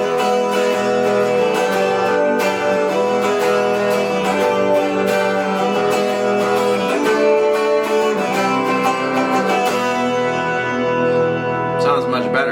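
Bright, shimmering chords from a twelve-string electric guitar with a clean tone, strummed and ringing continuously at a strong level.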